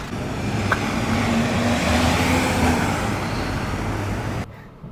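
A 2020 Suzuki Vitara's engine hums steadily in stop-and-go traffic in the Philippines, with road and traffic noise around it, the sound dropping away at the end.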